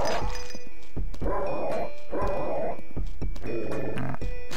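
A dog in the Doom 2 wad Possest barks in rapid, loud, close bursts, several in a row with short gaps, mixed with sharp game effects.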